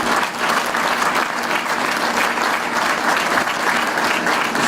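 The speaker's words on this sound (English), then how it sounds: "A big round of applause for our soloist" Audience at a Navy ship christening for USNS John Lewis in San Diego applauds a Navy soloist, a dense, steady round of clapping from a crowd lasting the whole stretch without letting up.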